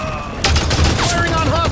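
Loud, close bursts of gunfire from a multiplayer match in Halo 5: Guardians crack out in quick succession, mixed with game effects and a voice in the background.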